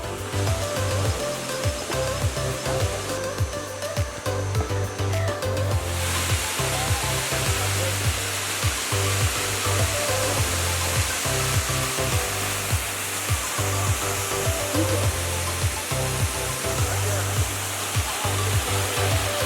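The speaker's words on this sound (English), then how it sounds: "we finally made it to the waterfall" A waterfall in the hills of Minca, Colombia, roars as a loud, continuous broadband rush of falling water, close and steady throughout, with brief low thumps beneath.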